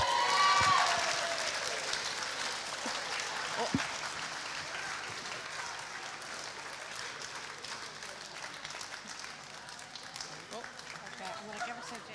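An audience at a youth TEDx event bursts into loud applause and cheering for a prize winner, a dense wash of clapping that peaks at the start and slowly thins over twelve seconds.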